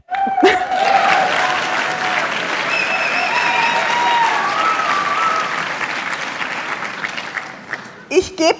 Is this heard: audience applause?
yes